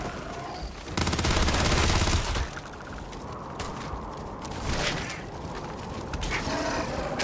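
Dense sci-fi gunfire crackles through a firefight in Starfield, loudest in a sustained burst early on, then continuing as scattered shots and mechanical clatter beneath a busy mix, with no talk.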